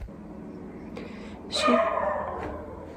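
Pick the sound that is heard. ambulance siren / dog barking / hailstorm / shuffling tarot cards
dog barking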